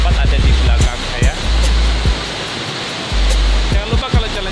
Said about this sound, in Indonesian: Aku ada di Air Terjun Kuning yang ada di Bali.